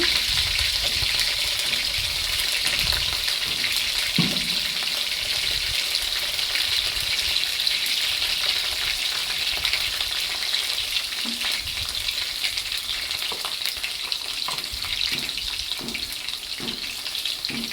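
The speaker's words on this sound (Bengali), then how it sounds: "প্রথমে আমি ফ্রাই প্যানে তেল দিয়ে দিলাম তেল কিছুটা গরম হয়ে আসলে তারপরে আমি পেঁয়াজ কুচি মরিচ কুচি দিয়ে দেবো" Chopped onion and chili fry in hot oil in a frying pan, giving a steady close sizzle with scattered spatula knocks and scrapes throughout.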